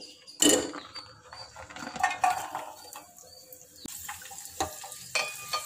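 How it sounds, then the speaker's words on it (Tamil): Cashews and raisins frying in ghee for egg biryani, a continuous sizzle broken by clinks and scrapes of a spoon against the pan, with no talk. "நெய் ஊற்றி நம்ம அந்த முந்திரி திராட்சை இருக்கு இல்லையா, அதை நம்ம வந்து பொரிச்சு எடுத்து வச்சிடலாம்"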